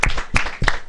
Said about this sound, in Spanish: un aplauso también para todos aquellos que utilizan la bicicleta,